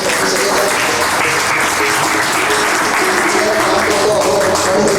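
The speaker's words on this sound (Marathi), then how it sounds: "जोरदार टाळ्या वाजवायच्या आहेत" Loud, sustained applause from a crowd honouring teachers at a class-of-1986 dedication day ceremony, dense, steady clapping filling the whole stretch without pause.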